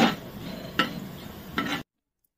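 Bitter gourd pieces frying in a pan for a curry, a steady sizzle with a couple of brief scrapes or stirs, then the sound cuts off abruptly into silence.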